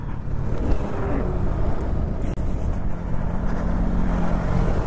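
Stock exhaust of a Duke 390 BS4 motorcycle on a ride, burbling steadily and close for the whole stretch, mixed with heavy wind rush and road roar, no talk over it.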